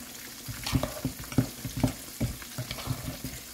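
Catfish frying in a pan, a steady sizzle broken by repeated rhythmic scraping or stirring bursts, close and fairly loud, with no talking.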